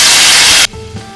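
Beef pieces drop into hot oil in a heated pan and set off a loud, dense hiss of frying up close, which stops abruptly and leaves a faint, quieter background.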